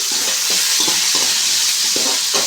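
Curry leaves, green chillies and salt sizzle in hot oil while being stirred for upma, a steady loud frying hiss broken by rhythmic scrapes of the spoon, with no talking.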